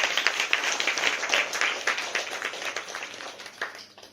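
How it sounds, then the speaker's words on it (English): An audience claps for children after a Bhagavad Gita antakshari performance, a lively burst of applause that gradually thins and fades out. "One clap."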